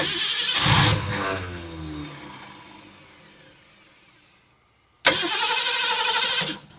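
A 1969 Ford Mustang that sat for over 30 years cranks and briefly catches after gas is added, a loud burst that fades away into near silence, then a second sudden loud cranking attempt close by.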